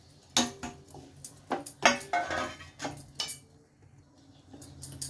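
A spoon scrapes and knocks against a metal pot as a jaggery and sesame mixture for til-gul laddoos is stirred fast, giving irregular clanks and scrapes close by with quiet gaps between strokes.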